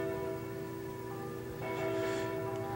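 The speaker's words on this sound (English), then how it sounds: "The church bells have been ringing all morning. Heavy, slow, melodious." Slow, heavy church bells ring with sustained, overlapping tones, swelling in brightness toward the end.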